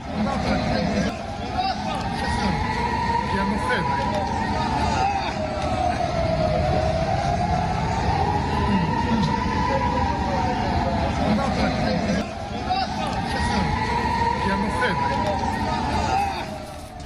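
A wailing air raid siren in Israel rises and falls in slow, repeated sweeps, loud and steady, over a constant bed of crowd commotion and people running.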